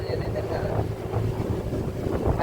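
Steady wind rushes and buffets across the microphone on a boat, with a low engine-like rumble beneath, out on open water in the Pichavaram mangrove forest.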